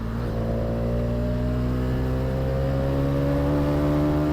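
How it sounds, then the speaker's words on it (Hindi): A Karizma XMR single-cylinder motorcycle with a custom exhaust runs on Ranchi roads, producing a continuous loud engine drone whose pitch climbs gradually as it pulls, heard close with no talk. "due to having a custom exhaust and though being a single cylinder motorcycle, it sounds too good"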